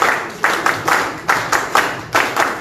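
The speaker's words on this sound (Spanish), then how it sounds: "Fuertes palmas para él, por favor." A small gathering of people claps in a rhythmic, pulsing pattern, loud and close, with distinct surges of hands roughly every quarter second.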